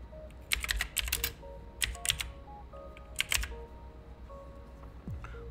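A prompt is being typed on a computer keyboard in several quick bursts of crisp key clicks separated by pauses, close and fairly quiet, with no voices.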